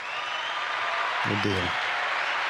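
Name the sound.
applause sound effect from a podcast soundboard button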